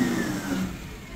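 A yard truck's medium engine runs steadily and revs as its fifth wheel lifts the trailer, a continuous close mechanical drone with no talk.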